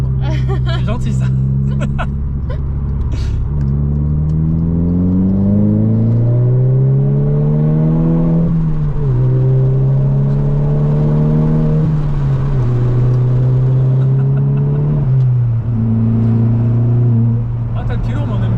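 A Volkswagen Scirocco R with 265 hp pulls hard through the gears on a road near a roundabout, its engine note rising in long sweeps with brief dips at each shift, heard from inside the cabin and loud throughout.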